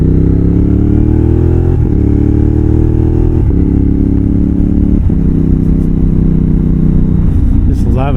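Moto Morini X-Cape 1200 adventure bike pulling hard, its loud engine note climbing and then dropping sharply at each quick-shifter upshift, four quick gear changes in steady succession.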